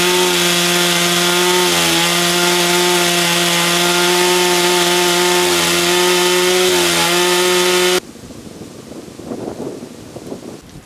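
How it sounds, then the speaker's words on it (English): A chainsaw roars steadily at high pitch on Konjice Mountain in Slovenia, dipping briefly as it bites into wood, then cuts off, leaving faint wind and rustling. "I can listen to the chainsaw at home."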